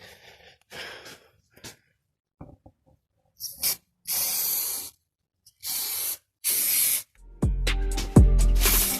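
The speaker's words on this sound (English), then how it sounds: "I'm gonna spray some glue over here now." Several short hissing bursts from a can of spray adhesive, each lasting under a second, separated by brief pauses, close by, ending in clattering handling noise.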